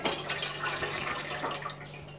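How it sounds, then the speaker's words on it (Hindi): Water poured from a glass into a dhokla steamer mould, a steady close splashing and trickling that runs unbroken throughout with no voices. "मैं यहाँ पे 2 गिलास पानी डाल रही हूँ।"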